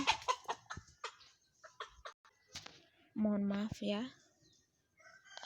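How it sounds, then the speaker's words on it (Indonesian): A nearby chicken crows once in a short harmonic cry amid a few clucks, breaking into a lecture with a person speaking before and after it. "tadi ada suara ayam"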